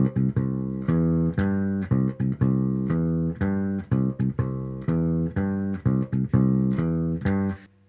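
Bass guitar plays a major triad arpeggio, the first beat split into eighth notes, repeating in an even, steady pattern of plucked notes over several bars, clear and close with no talking.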